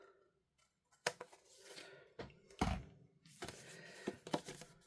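Scissors cut through paper or card for a handmade wreath in a few quiet, close snips and rustles, separated by short pauses.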